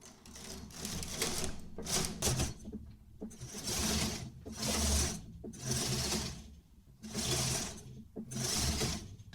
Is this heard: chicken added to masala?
no